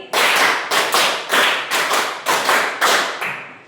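Schoolchildren in a Catholic religion class clap together in a counted rhythm, with a quick run of about seven sharp, loud, unison clap bursts.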